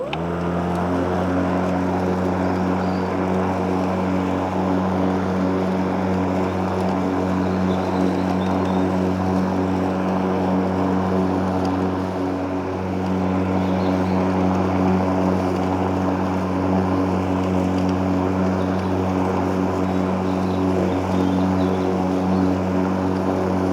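A Hyundai HYM80LI460P lawn mower with a mulching plug fitted cuts damp grass, a steady, loud, close motor drone with a humming tone that holds unbroken throughout.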